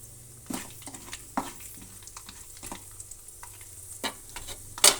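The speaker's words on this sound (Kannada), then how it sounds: "ಈಗ ಆ ಆಯಿಲ್ಗೆ ನೋಡಿ ಸಾಸಿವೆ ಒಂದು ಸ್ವಲ್ಪ ಸೇರಿಸ್ತಾ ಇದ್ದೀನಿ, ಮತ್ತು ಕಡಲೆಬೇಳೆ ಒಂದು ಸ್ವಲ್ಪ ಸೇರಿಸ್ತಾ ಇದ್ದೀನಿ. ಈಗ ಅದು ಎರಡು ಫ್ರೈ ಆಗಲಿ." Mustard seeds and chana dal frying in hot oil: a quiet, steady sizzle broken by scattered crackles and sharp pops, with a louder spluttering burst at the end.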